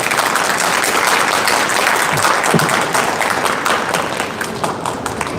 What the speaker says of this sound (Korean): 다시 한번 우리 정영수 이사님께 뜨거운 박수 한번 부탁드립니다.